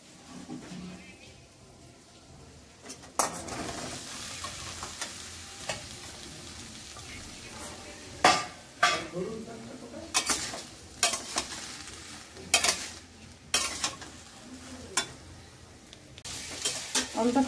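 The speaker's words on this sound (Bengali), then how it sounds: "আলু ফুলকপি টমেটো খানিকটা ভাজা ভাজা করলাম" Potato, cauliflower and tomato pieces frying in a pan, a continuous sizzle with repeated sharp scraping stirs of a utensil against the pan, growing more frequent toward the end.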